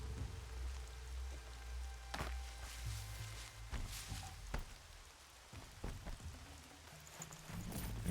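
Steady rain patters throughout in the video game Horizon Zero Dawn, with scattered sharper drips and taps on top and a low rumble underneath; no one speaks.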